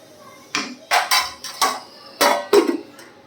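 A spoon clinking against a small bowl of set, chilled kheer, about six sharp metallic taps in an irregular rhythm, close and fairly clear with no talking.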